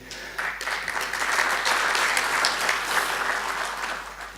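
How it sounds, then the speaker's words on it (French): An audience at a conference on youth integration and development in Africa applauds loudly and steadily, a dense wash of clapping that swells and holds for several seconds before easing slightly. "je vous demanderai de les applaudir bien fort pour le travail fourni"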